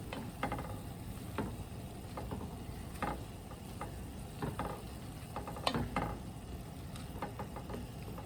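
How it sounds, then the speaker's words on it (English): Collard greens are stirred in a pan with a soft sizzle underneath. The spoon scrapes and taps in an irregular rhythm of quiet clicks, close but faint, with no talking. "So now we're just going to stir in these greens."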